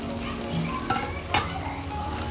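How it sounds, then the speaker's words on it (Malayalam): Fried prawns being sautéed in a pan for a pepper roast, a steady sizzle broken by two sharp scraping clinks of a spatula against the pan, close and alone. "ഇനി നമ്മൾ ആ വറുത്ത് വെച്ച പ്രോൺസ് ഉണ്ടല്ലോ, അതെടുത്ത് ഇതിലിട്ടിട്ട് ഒന്ന് വഴറ്റുക."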